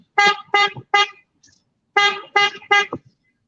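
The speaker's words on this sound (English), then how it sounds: "Look at those vehicles beeping for Biden, beeping for Biden" Car horns honk from a vehicle caravan in two quick bursts of three short beeps each, fairly loud and close, with brief silence between the groups.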